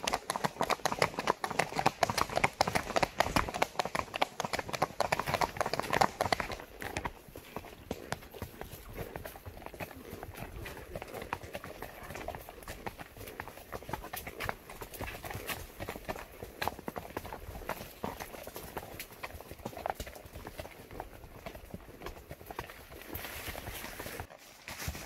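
A horse lopes along with steady, rhythmic hoofbeats that clip-clop throughout. The hooves sound louder for the first few seconds, then settle into a softer, even cadence, with no voices.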